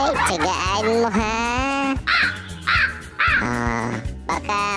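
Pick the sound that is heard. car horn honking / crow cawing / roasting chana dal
crow cawing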